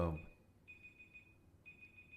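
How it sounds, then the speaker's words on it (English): An electronic alarm sounds in long, steady high-pitched beeps, two sustained tones separated by a short gap, faint and in the background of a quiet room. "I think Bill just set off the alarm."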